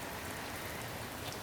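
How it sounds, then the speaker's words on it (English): Steady pouring rain, a dense continuous hiss of drops hitting surfaces close by, loud and unbroken with no voices. "It's pouring."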